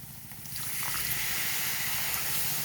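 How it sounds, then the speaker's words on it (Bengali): Water poured in a small splash into frying spices for a cauliflower roast, followed by a steady broadband sizzle and hiss that rises after the first half-second and holds evenly close by. "আর দিয়ে দেবো সামান্য পরিমাণে জল, যাতে তলায় না লেগে যায়।"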